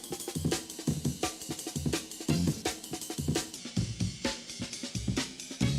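Classic breakbeat drums, sped up into a rapid, tight loop of snare cracks, kicks and ride cymbal, steady and moderately quiet with no talking.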